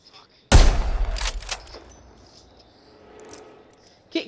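Gunfire in Apex Legends: a loud, sharp burst opens the fight, followed by several rapid shots that trail off into fainter scattered fire, with a voice speaking over the exchange.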